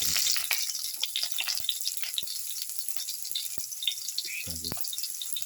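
Oil sizzles steadily in a pan with mustard seeds, with a few sharp pops and clinks of a utensil scattered throughout, cooking for a beetroot rice dish.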